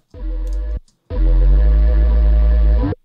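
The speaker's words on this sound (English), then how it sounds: "When it has that sub, it's very nice to distort." Two bursts of heavy, distorted synth bass, a short one then a longer sustained one, buzzing and gritty with a deep low end.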